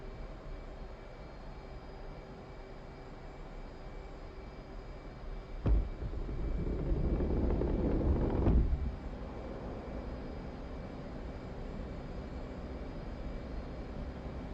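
Aircraft engine in the DCS flight simulator pushed to full power, a steady drone that swells into a louder roar with a sharp click at the start and fades back after a few seconds.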